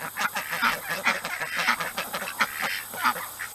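Ducks honk and quack loudly and close up in a rapid, overlapping series of nasal calls that continue without pause.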